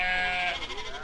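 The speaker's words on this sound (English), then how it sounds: "There's plenty of different sheep breeds on show for judging" A sheep lets out one drawn-out bleat at an agricultural show where different sheep breeds are on display for judging. The call is close and clear for about half a second, then gives way to quieter background noise.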